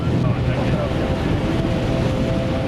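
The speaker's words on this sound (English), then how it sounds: "Oh, it's certainly got windy now." Strong, steady wind roars and buffets the microphone without pause on the summit of Helvellyn in the Lake District, a dense rushing noise filling the whole stretch.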